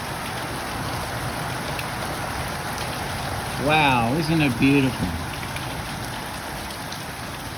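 Steady hiss of rain falls throughout a brief summer thunderstorm in Lower New England, Australia, a dense even patter with a person speaking briefly over it midway.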